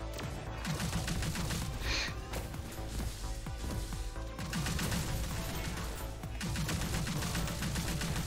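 Assault rifle fire in the third-person shooter ArcRunner, loud rapid bursts of shots repeating steadily throughout with game effects behind them, no talking.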